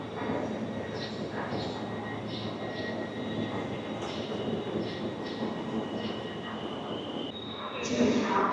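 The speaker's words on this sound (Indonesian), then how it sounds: "Dia datangnya mundur tapi. Ini dia keretanya." A EuroCity train backs into a station platform, its steady rumble and rolling noise continuous and fairly loud, swelling slightly near the end.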